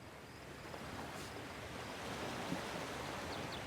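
Sea waves wash steadily ashore in the Divinity: Original Sin video game, a soft, continuous surf hiss that stays faint and even throughout, with no voices.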